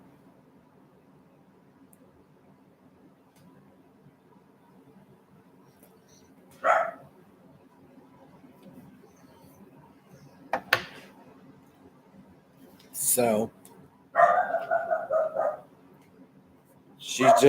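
Several dog barks come in separate bursts against a quiet background, with a short spoken word near the start.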